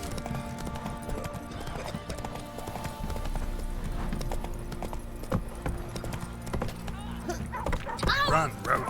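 The horse Roach galloping in The Witcher 3, with rapid rhythmic clip-clop hoofbeats going on throughout, a whinny near the end, and voices heard over the hooves.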